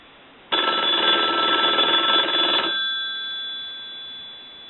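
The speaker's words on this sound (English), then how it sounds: "So I'm going to go ahead and ring the telephone." A wooden wall telephone's bell rings in one loud, continuous metallic burst of about two seconds, then fades into a lingering faint hum.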